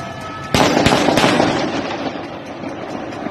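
Several sharp bangs crack out in quick succession as gunshots are fired from a balcony, loud and echoing off nearby buildings, then fading into a lingering rumble.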